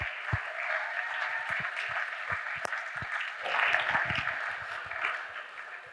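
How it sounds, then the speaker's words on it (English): Scattered clapping from an audience honoring teachers at a school valedictory ceremony, moderately quiet and fairly distant, swelling briefly midway before easing off. "let's have a huge round of applause once again for Sangeeta ma'am and all the teachers"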